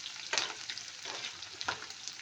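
Onion fries in a pan for burong tilapia, giving a soft, steady sizzle broken by a few brief scraping bursts as it is stirred, fairly quiet and close, with no voices.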